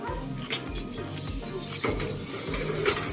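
Racing pigeons in a loft coo in soft, low, repeated bursts close by, with a few faint chirps and light rustling, and no voices.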